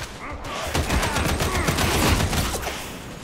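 Dense, overlapping gunfire from many enemy shooters in the Warhammer 40,000: Darktide video game, a sustained crackling volley that stays close and loud throughout.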